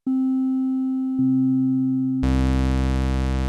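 A synthesizer playing a steady pure sine tone, then a lower tone layered in, then a sudden bright, buzzy sustained chord as more waveform layers join for an ambient pad, loud and alone.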